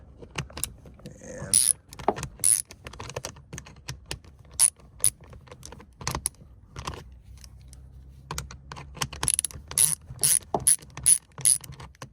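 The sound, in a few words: ratchet with 10 mm socket removing car seat bolt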